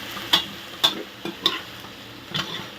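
Kale and egg stir-frying in a pan, with soft sizzling under four sharp scraping clinks of a spatula against the pan at uneven intervals, close and moderately quiet.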